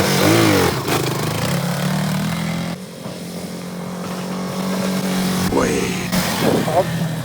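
A Yamaha XT 125 motorcycle rides nearby, its engine droning and briefly revving while people talk over it.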